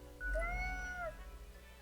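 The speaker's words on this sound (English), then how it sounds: "The cat repeats a sequence of contented meows" A cat in the video game Death and Taxes gives one soft, drawn-out meow with a rising then falling pitch, clear and close over a low background hum.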